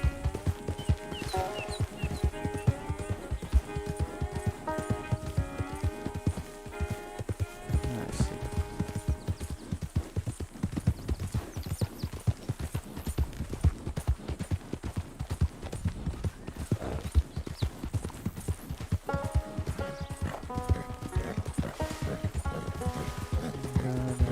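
A horse clip-clops along a town road in Red Dead Redemption II, quick regular hoofbeats running throughout under layered game music, with occasional louder clatters.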